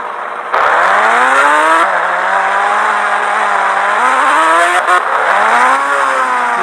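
Ghost Rider's vehicle in the video game Indian Bike Driving revs hard and loud, its engine pitch climbing and falling in repeated sweeps with no talk over it.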